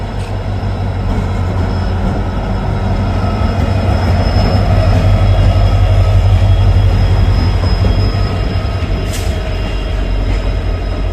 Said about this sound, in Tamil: மைசூர்லேருந்து சாம்ராஜ் நகர் போகிற ஒரு பேசஞ்சர் ட்ரெயின் வந்துகிட்டு இருக்கான்